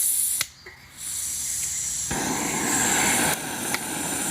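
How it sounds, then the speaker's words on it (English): A BRS 3000 backpacking stove burning on its first lighting gives a steady, broad roaring hiss that carries on almost unbroken, with a short dip near the start and a few faint ticks. "So this is the first lighting of the new stove."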